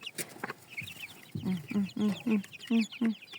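Young month-old chickens of Loman, Hisex and Dominant breeds cluck in a close, rhythmic series of short calls, with a voice speaking briefly in the background.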